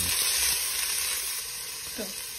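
Garlic and onion stir-frying in a hot pan for a pork stir fry, a loud, steady, close sizzle that eases slightly midway, with a brief scrape of stirring.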